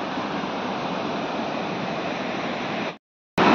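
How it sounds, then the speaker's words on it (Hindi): The Mandakini river roars as a dense, steady rush of water in a hilly mountain setting, loud and unbroken before cutting out briefly and resuming. "और मंदाकिनी नदी की आवाज़ तो ऐसी गूंज रही है"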